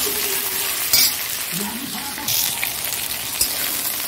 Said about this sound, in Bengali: পটলটা একটু নাড়াচাড়া দিয়ে দিচ্ছি।